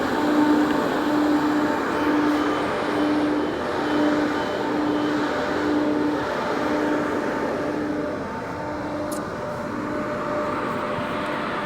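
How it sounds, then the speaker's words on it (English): A diesel Class 170 train running on the line near Leeds, a loud steady droning rumble with a faint rhythmic tone, heard continuously from on board without voices. "We'll be on board with one of our very special diesel class 170 units"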